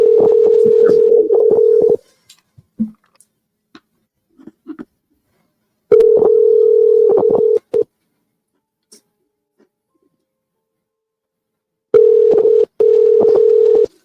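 A telephone dial tone from a call being placed, sounding in three steady bursts about two seconds long separated by quiet gaps, loud and clear with no talking.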